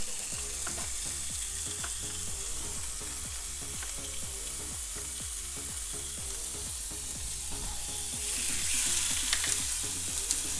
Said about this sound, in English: brown up the sirloin in a skillet